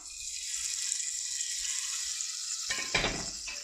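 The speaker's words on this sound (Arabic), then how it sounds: "غنقطع عليهم وغنخليهم يتشحروا ليا في هاد الزبيده والزيت" Onions and garlic sizzle steadily in butter and oil, a continuous close frying hiss throughout, with a brief clatter of stirring near the end.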